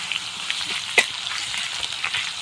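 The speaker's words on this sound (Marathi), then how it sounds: "लसूण छान असा तळा गेलेला आहे" Garlic sizzles in hot oil in a pan for a soybean dry curry, a close, steady crackling fry with a few sharper pops and no voices.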